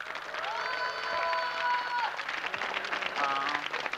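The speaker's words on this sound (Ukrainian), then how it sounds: "Я ще раз аплодисменти." Audience applause at a 1992 stage show, moderate and steady throughout, mixed with scattered crowd noise and a sustained tonal sound rather than standing clear on its own.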